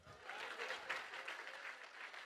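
Steady applause from a stand-up comedy audience, a brief continuous wash of clapping with a little crowd noise.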